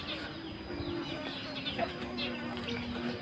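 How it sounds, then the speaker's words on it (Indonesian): Chickens cluck and chirp intermittently at a moderate distance around a home kitchen, with scattered short calls over steady background noise. "suara ayam, suara emeng."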